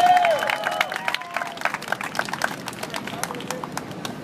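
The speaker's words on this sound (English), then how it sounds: "One more time, clap your hands and make some noise." A crowd at a Central Park street dance show in New York claps in sharp, scattered bursts that settle into a rhythm. Someone speaks loudly over the clapping.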